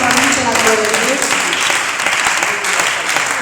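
A worship audience applauding and cheering together in praise, a dense, steady wash of clapping with voices mixed in, loud and sustained throughout.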